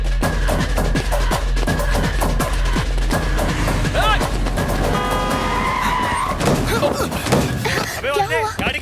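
A car skids hard to a stop close to a person on a street in a Hindi-dubbed South Indian film, with a rising tyre screech over engine rumble, followed by shouting voices.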